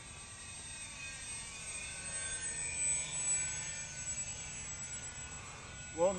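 Airfield Sky Trainer 182 RC airplane in flight, a steady high-pitched motor whine with a faint airy hum, holding constant in the distance with a brief nearby bump near the end.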